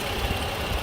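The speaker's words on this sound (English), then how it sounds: "This engine idling quite happily." A 2017 Lexus ES 350 Premium engine idles in a steady, smooth low rumble, close and even, with no voices.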